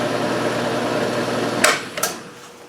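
A Grizzly machine with a DRO, being restored, hums steadily at a close, even pitch, then its motor sound cuts off, followed by two sharp clunks.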